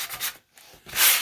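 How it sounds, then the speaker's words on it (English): A sanding sponge rubs back and forth over painted furniture in short, close scratchy strokes with a brief pause between passes. "there were a few little lumpy bumpies in the paint, so I used my sanding sponge"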